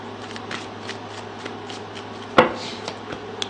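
Tarot cards shuffled by hand, a run of soft riffling flicks with one sharp louder snap midway, close and steady with no talking.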